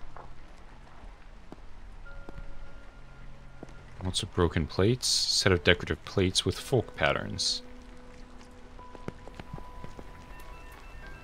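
Rain patters steadily against a window in the video game Holstin, a soft continuous wash running beneath a man's speech and carrying on alone once he stops.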